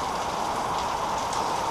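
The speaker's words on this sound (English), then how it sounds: "we got some classic Florida weather going on, so as you know, all the best builds are done in the rain" Steady rain falls outdoors in Florida, an even hiss of drops on surfaces with no voices.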